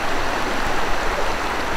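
Steady, full rush of high river water flowing at a creek mouth, a continuous broadband wash heard close and loud with no voices.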